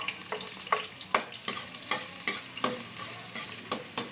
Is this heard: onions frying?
yes